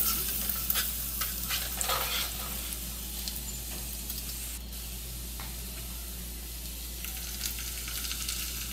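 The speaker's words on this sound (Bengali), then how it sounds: "এবারে দেখুন আর একটু নেড়ে চেড়ে দিচ্ছি।" Potato and egg kofta mixture being stirred in a frying pan, with a continuous oily sizzle and scraping spatula strokes, busier at the start and settling into a steady hiss, no voices.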